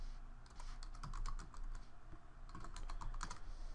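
Rapid clicking of keys on a computer keyboard, close and fairly quiet, in quick irregular bursts with no talking.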